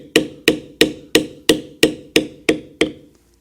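A metal leather beveling tool is struck repeatedly by a mallet while tooling Celtic designs into leather: nine sharp, evenly spaced taps at a steady rhythm, close and clear, then stopping.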